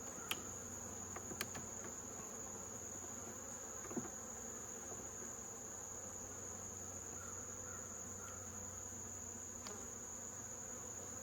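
Honey bees at beehives during an inspection, with small hive beetles present and goldenrod starting to bloom: a faint, continuous high buzz over a low hum, with a few soft clicks.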